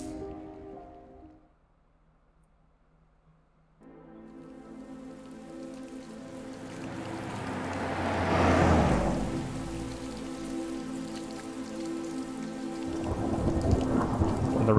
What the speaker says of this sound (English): And the rain just stops suddenly.